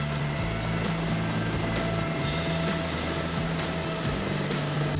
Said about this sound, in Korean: 한강에 무슨 일인지 헬리콥터가 떴다.